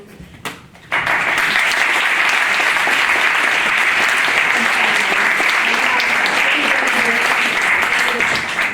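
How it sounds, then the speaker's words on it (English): After a short quiet moment, sustained applause from a film festival audience for the filmmakers swells in and holds loud and even to the end. "a round of applause for them if possible"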